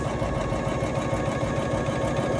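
A Poolin embroidery machine runs at a raised speed of 600 stitches per minute, producing a fast, even mechanical chatter with a steady rhythmic pulse at close range and no speech.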